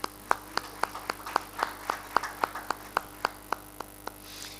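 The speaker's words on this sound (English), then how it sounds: "A round of applause as he comes." Sparse, scattered claps from a conference audience at a regional health financing event, about a dozen distinct sharp hand claps spread unevenly over a few seconds, fairly faint against a quiet room hum.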